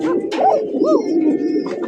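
Pigeons at a farm coo close by in soft, rolling, repeated calls over a constant low background murmur.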